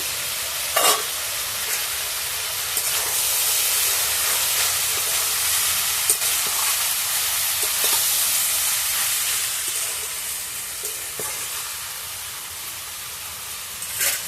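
Loud, steady sizzling and steamy hiss from frying chhyachra with fish oil as the pot lid comes off, with a few brief clanks and scrapes over a continuous bed of frying noise.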